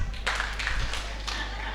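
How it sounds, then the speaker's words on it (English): A live choir show audience at a Potters Resorts Saturday night event gives a few quick scattered claps, soft and roomy, with some indistinct crowd noise. "I want 1 clap."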